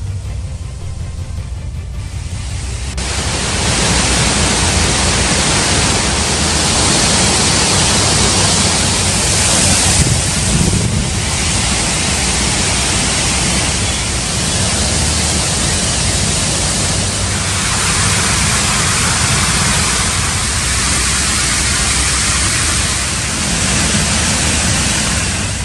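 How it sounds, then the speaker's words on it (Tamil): Waterfalls roaring after heavy rain, a loud, steady, broadband rush of falling water that holds constant for the whole stretch with no voices. "கனமழை காரணமாக அருவிகளில் தண்ணீர் ஆர்ப்பரித்து கொட்டுகிறது"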